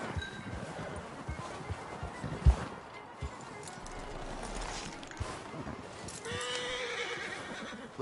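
A horse in Red Dead Redemption 2 whinnies and its hooves clip-clop amid an outdoor game ambience, with a brief sharp clink near the middle and a fuller neigh toward the end; no one speaks.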